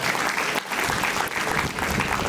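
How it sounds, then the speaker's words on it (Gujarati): Applause from an audience at an annual report reading and award ceremony, a dense, steady clapping that fills the whole stretch with only a brief dip near the middle. "જોરદાર તાળીઓ થઈ જાય"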